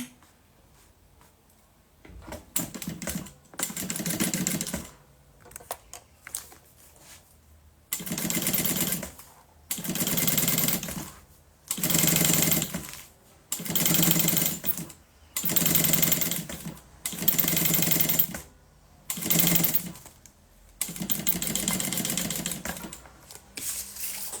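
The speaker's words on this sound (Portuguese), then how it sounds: "vou fazer a costura aqui do outro lado" Sewing machine stitching a silicone toiletry bag, loud close bursts of rapid mechanical needle clatter lasting a second or two each, separated by brief quiet pauses.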